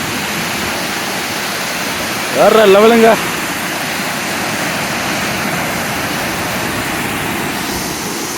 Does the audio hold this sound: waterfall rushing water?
yes